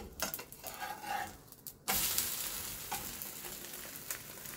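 A stuffed tuna roll fries in a pan just after flipping: a soft hiss, then a sudden louder burst of sizzling that settles into a steady, close crackle with no talk.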